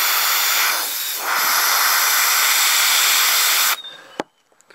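An airbrush sprays paint onto a gloved hand in a steady loud hiss that briefly dips, then cuts off abruptly and is followed by a couple of small clicks.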